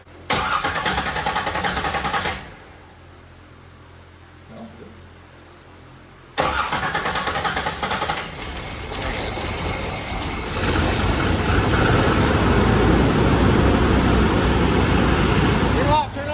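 A car engine being started for the first time after repair cranks, pauses, then catches and runs loudly, idling and revving rough and close; a voice talks over part of it.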